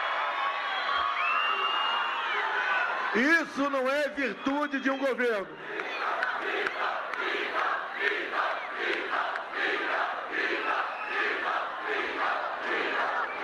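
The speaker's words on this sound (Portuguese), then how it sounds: "aplaudindo o Bolsonaro de pé" A Brazilian crowd at a Bolsonaro motorcycle rally in the Northeast cheers, shouts and chants in a rhythmic wave under and after someone speaking Portuguese, loud and dense with pulsing voices.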